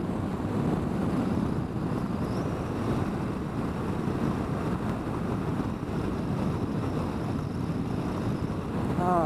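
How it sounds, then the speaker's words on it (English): Blustery Santa Ana wind roaring steadily and loudly across an open microphone, a constant dense rush with no pauses and no voices. "we have actually Santa Ana winds today, so it's really blustery"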